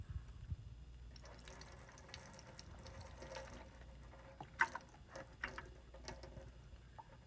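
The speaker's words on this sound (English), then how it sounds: "We're going to turn our water back on and rinse our brush." A bathroom water tap turned back on to rinse a toothbrush, a faint, low steady flow with a few brief clicks and clatters against the sink.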